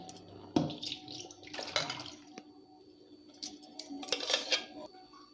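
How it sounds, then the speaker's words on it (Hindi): Water is poured into a vessel while making desi ghee by hand, with splashy bursts and trickles in short separate spurts, interspersed with quieter gaps and small clinks. "ए अल्प टे पानी दे देदेबा।"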